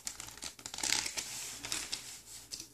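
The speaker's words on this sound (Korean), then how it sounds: "발열체는 이렇게 포장이 되어 있는데 사용하실 때 포장을 뜯어서 사용하시면 되겠습니다." Packaging of a heating pack being torn open, close crinkling and ripping in short uneven bursts, fairly quiet, with no one speaking.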